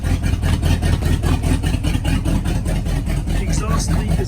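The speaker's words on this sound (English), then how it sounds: "the exhaust leak is up front" A 1955 Buick Century engine idles with an exhaust leak up front, giving a steady, close, rhythmic chuffing pulse under a voice talking.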